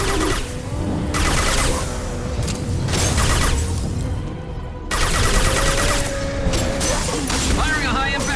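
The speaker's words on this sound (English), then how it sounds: "Firing a high impact shot." High-impact gunfire in the Mass Effect 2 Legendary Edition video game, loud and dense with repeated sharp blasts and crashing bursts over a busy combat mix, with a brief lull midway before the shooting resumes.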